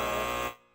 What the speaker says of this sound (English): The buzzer sounded.